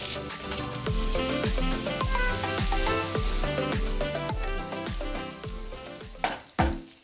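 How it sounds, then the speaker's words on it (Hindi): Garlic, ginger and onion sizzle steadily in a hot pan, a constant crackling hiss with occasional stirring clanks, over soft background music. "जैसे ये लहसुन और अदरक भूनने लग जाए इसमें कटे हुए प्याज डाल देंगे।"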